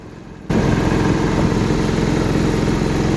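A tractor engine suddenly roars into a loud, steady, low rumbling drone that continues without a break, close by.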